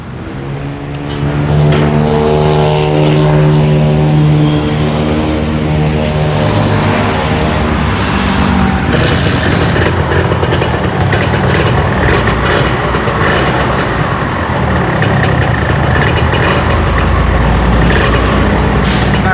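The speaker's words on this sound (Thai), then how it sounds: "ฟังเสียงเครื่องนะครับ เครื่องก็โอเค" A two-stroke motorcycle engine, offered for sale in running order, starts up and runs loud and close, its harmonic note shifting through a few blips early on before settling into a steady, rough, buzzy drone for the rest.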